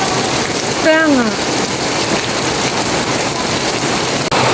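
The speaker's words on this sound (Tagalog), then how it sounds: "Ulan na naman po!" Heavy rain pours down in a constant loud hiss that fills the whole clip, with a short voice-like sound rising over it near the start.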